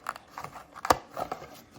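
Paper packaging of a perfume discovery set being opened, giving a few soft crinkles and one sharp crisp rustle near the middle, quiet and close.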